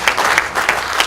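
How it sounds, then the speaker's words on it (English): A short burst of clapping from a group of people, steady and lively, with no voices over it. "if you can give the panel a round of applause"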